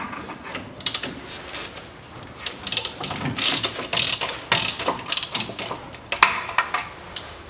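Ratchet clicking in repeated bursts as the central crossmember nut is undone during clutch replacement on a 2007 Ford Ranger 2.5 turbo, close and fairly loud with no talk.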